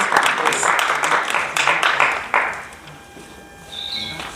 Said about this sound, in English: Please give her a round of applause as she comes up.